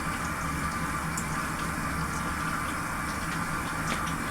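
Running water splashes steadily over hands being lathered with facial cleanser at a sink, a continuous close hiss with no pauses.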